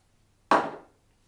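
Aftershave splash, a discontinued Marks & Spencer scent, gives one sudden wet slap that fades out over about half a second, near and alone in a quiet room.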